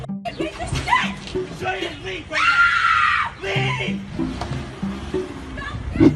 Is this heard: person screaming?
yes